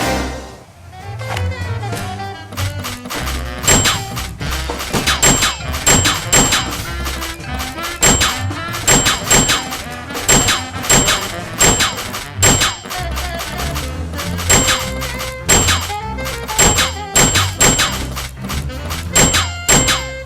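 Gunshots fired at rats in the 2007 adventure game Sam & Max: Save The World, a series of punchy bangs and clanks repeating over a continuous loud game music backdrop.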